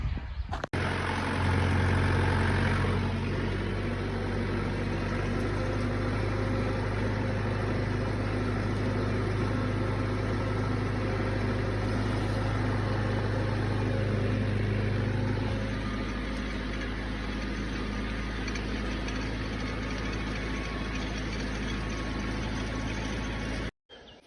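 A mini tractor fitted with a row-crop inter-row cultivator drives slowly into a field; its engine gives a loud, steady, continuous drone close by, with no talking.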